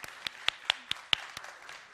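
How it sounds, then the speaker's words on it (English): A few sparse hand claps at a church gathering, spaced evenly and fading out after about seven beats rather than swelling into full applause. "We can give a hand clap for that."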